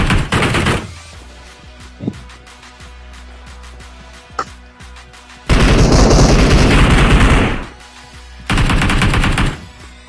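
Gunfire on a film stunt shoot: loud sustained bursts of rapid automatic fire open the moment, return twice later, and are separated by a couple of sharp single shots and quieter gaps.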